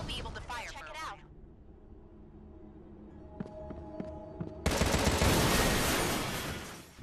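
Weapon fire in the video game Contra Rogue Corps, a dense, loud burst of rapid gunfire that starts abruptly after a stretch of game sounds and a voice at the start.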